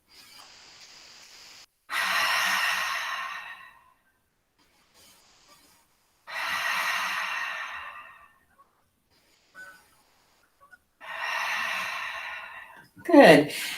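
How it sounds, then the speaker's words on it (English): Three slow, deep breaths during a yoga session, each a long airy inhale and exhale close to the listener, separated by quiet pauses, with no talking. "Take 3 breaths here."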